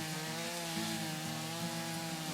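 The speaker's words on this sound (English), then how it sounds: "Let's grab our chainsaw here." Chainsaw cutting in the House Flipper video game, steady buzzing motor drone with a rough grinding texture, held continuously and fairly even in level, no voices.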